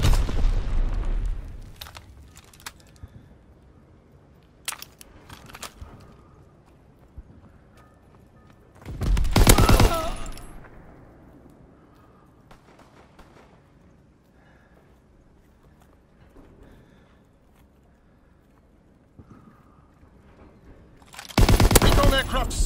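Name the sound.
mortar rounds and bombs firing in a WWII video game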